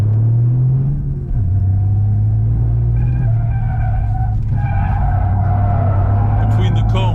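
A Toyota GR Yaris rally car slides sideways between cones on a loose surface, its engine droning loud and close with a steady low rumble and rising tonal revs as the tires scrub through the slide.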